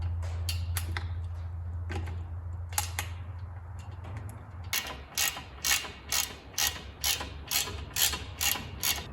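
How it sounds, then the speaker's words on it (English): A hand ratchet clicks in quick repeated bursts while tightening loose 3/4-inch button-head bolts with plastic washers during a cab install on a John Deere 2210/2305 compact tractor, close and crisp over a low engine-like hum that fades midway. "Now we're tightening up all these bolts we had left loose when we were first installing."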